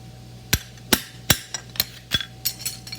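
An E-head nail is hammered into a horseshoe with a run of sharp metallic strikes, a few heavy blows followed by quicker, lighter taps, close and clear over a faint hum.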